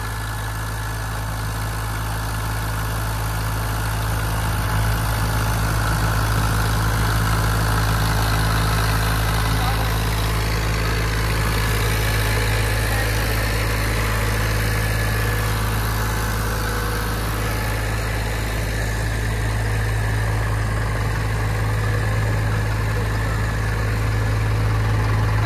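A tractor engine idles steadily and loudly up close, with a deep continuous rumble and a constant drone throughout.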